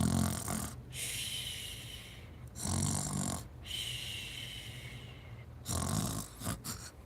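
A person imitates snoring with their voice, making three long raspy inhaled snores separated by short pauses, close and fairly loud with no talking.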